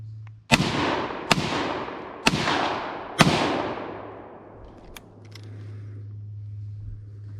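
A Norinco 56 SKS rifle fires four loud, sharp shots at uneven intervals, each with a ringing echo trailing away outdoors. A low steady hum runs underneath, and there are a few faint clicks afterward.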